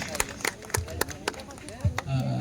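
Scattered, uneven hand claps ring out from an audience gathered at a district-level women's fair. Several sharp, distinct claps are spread across a couple of seconds, with voices talking underneath.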